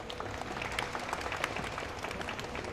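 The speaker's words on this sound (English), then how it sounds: "A warm round of applause, and rightly so." An audience at the 2023 Hanoi Open Pool Championship applauds, a steady, moderately distant wash of clapping hands lasting throughout, with no voices over it.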